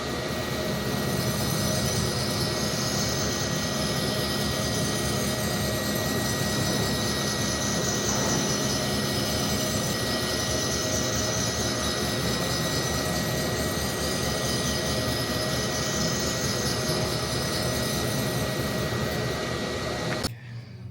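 A reel mower grinding machine running a spin grind program, giving a steady, dense whirring and grinding drone at moderate level for about twenty seconds before cutting off abruptly at the end.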